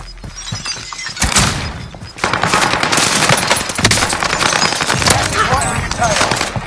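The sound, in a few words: gunfire in a video game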